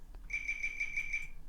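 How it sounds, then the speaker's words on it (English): Six short, evenly spaced high-pitched beeps from a ripped audio recording, clear and moderately loud over low background noise, with no talk. "So yeah, so these are little beeps."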